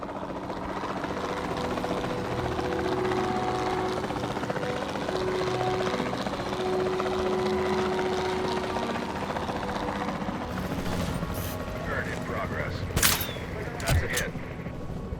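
A helicopter's steady rotor and engine drone hums in a dinosaur-themed game set in Arizona, with sharp gunshot-like bursts and clatter breaking in near the end.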